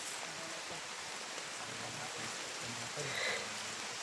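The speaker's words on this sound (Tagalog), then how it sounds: "Ulan nga araw ngayon." Rain falling outdoors, a steady soft hiss of drops with faint murmuring voices in the background, continuous and fairly quiet throughout.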